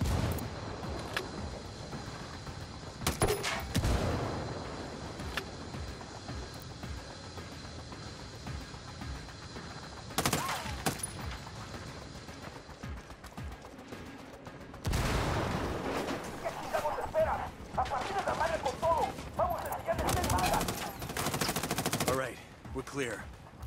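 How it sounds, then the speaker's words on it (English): Bursts of automatic gunfire in the video game Ghost Recon Wildlands, loud volleys around the start, middle and final stretch, separated by quieter ambient stretches, with faint game voices in places. "That was some good shooting."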